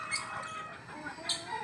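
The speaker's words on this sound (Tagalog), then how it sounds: "Ayan yung inahin natin, napakagaling maglimlim yan." A brooding hen clucks softly and steadily nearby, low murmuring calls with a couple of sharper higher notes breaking through.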